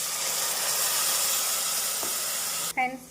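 Ground mint paste sizzling in a pan for pudhina biryani, a steady bright frying hiss that ends abruptly near the close, when a voice starts speaking.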